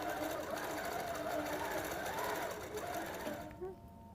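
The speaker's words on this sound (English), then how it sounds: "we're just gonna let the machine finish up this row" A sewing machine, likely a quilting machine, runs steadily while finishing a row of stitching on a quilt, giving a continuous close mechanical whir that stops abruptly near the end, with a voice faintly underneath.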